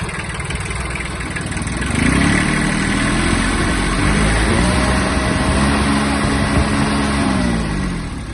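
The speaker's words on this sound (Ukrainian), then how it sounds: "Давайте там трохи газу." A Kubota XB-1 Japanese mini tractor engine runs steadily, then revs up around the middle and holds a higher, throaty pitch, close by.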